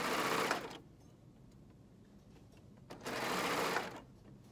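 A sewing machine stitches a T-shirt hem in two short bursts of rapid, steady whirring, close and clear, with a quiet pause between them.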